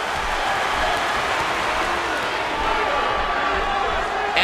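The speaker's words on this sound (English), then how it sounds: "Would you listen to this crowd show their appreciation for these amazing competitors?" A large arena crowd in the WWE'13 wrestling video game cheers and applauds in a steady, dense wash of noise, loud and continuous throughout.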